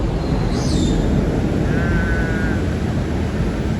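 A light rail (LRT) train rolls past, steady rumble and rail noise throughout, with a brief high squeal of wheels near the start and a faint tonal whine in the middle.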